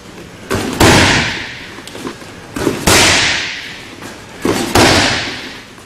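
Kickboxing shin kicks land on a body in a regular rhythm, three sharp loud cracks each preceded by a softer thud, every impact ringing briefly before fading, close and without talking.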